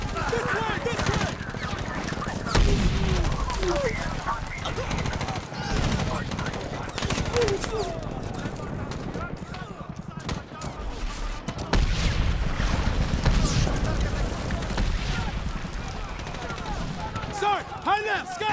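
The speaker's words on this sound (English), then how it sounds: "Jabot, get up and return fire!" Intense combat gunfire from the 2010 video game Medal of Honor: dense rattling automatic bursts and scattered shots fill the scene with loud booming impacts, while voices shout over the firefight throughout.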